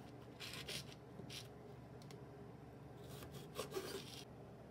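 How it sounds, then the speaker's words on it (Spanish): Potatoes being peeled and cut for a Spanish tortilla de patatas: soft rasping strokes in short repeated bursts, close and quiet, with no talking. "Siguiente, pelar las patatas. Cortar las patatas."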